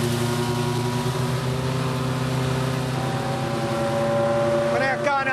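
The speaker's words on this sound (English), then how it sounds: "You can hear that engine roaring away." Classic truck with a 6.5 litre Rolls-Royce engine roaring steadily at around 60 mph on a straight road, a loud, continuous droning hum with engine harmonics, a brief rattle near the end, and people talking over it.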